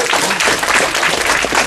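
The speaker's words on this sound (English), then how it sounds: "Can't believe that got applause." Anime convention panel audience at Youmacon 2010 applauding, a loud continuous wash of many people clapping in a packed room, steady from start to finish.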